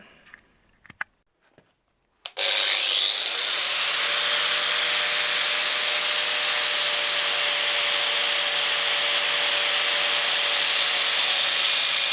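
A piece clamped in a vise is cut with a power tool that starts after a few soft knocks and then runs as a loud, continuous, steady grinding whine to the end.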